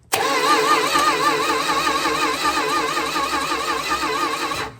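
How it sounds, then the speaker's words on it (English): A 1964 Dodge Dart GT with a 273 V8 cranks steadily on the starter, jumpered at the starter relay, a loud continuous rhythmic whirring that holds for several seconds and then cuts off. "take a screwdriver and jumper the starter relay from the big post to this middle post."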